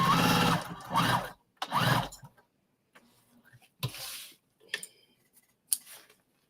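Scissors snipping threads after sewing a car trash bag, a few crisp, close cuts spaced by pauses, following louder bursts of other work noise at the start.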